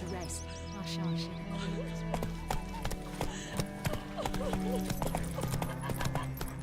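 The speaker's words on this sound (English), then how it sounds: "Whoa there, Roach" Horse hooves clip-clopping in The Witcher 3, rhythmic hoof strikes over background game music and ambience, with a brief whinny and a character voice speaking partway through.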